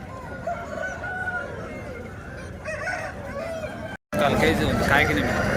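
A large rooster crows at a poultry market amid constant background talk and bustle, with a brief dropout before the noise returns louder.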